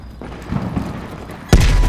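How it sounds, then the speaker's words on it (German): Gunfire in the video game Call of Duty Cold War booms as muffled distant shots under a low rumble, then one loud close blast near the end. "wo du Schüsse hören konntest."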